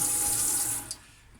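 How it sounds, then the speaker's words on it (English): Water runs steadily from a tap in a camper cabin kitchen for most of a second, then cuts off abruptly, leaving near silence. "the water system again is just totally normal like at home"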